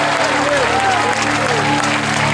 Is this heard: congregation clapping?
yes